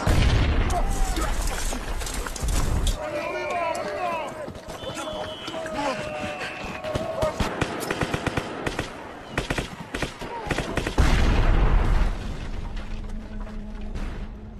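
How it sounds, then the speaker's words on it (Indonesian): Mortar and artillery fire in a battle, sharp repeated blasts and rattling gunfire, dense at the start and again near the end, beneath continuous narration. "Bom lontar bahkan mulai menghujani mereka."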